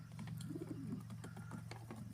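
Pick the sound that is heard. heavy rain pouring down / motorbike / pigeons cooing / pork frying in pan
pigeons cooing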